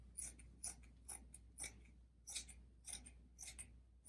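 Scissors snip through excess fabric while a reading nook pillow is being sewn, giving eight or nine crisp, evenly spaced cuts over a low steady hum, close and fairly quiet.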